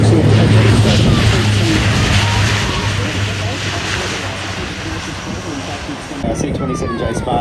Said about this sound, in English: a C-27J Spartan lifts its ramp and gets ready to take off